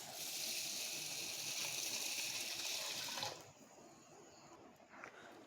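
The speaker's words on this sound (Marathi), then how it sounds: "इकडे आपण पातेल्यामध्ये पाणी घालूयात." Water pours steadily into a cooking pot of rice for about three seconds, then stops, leaving faint quiet trickles before a brief knock at the end.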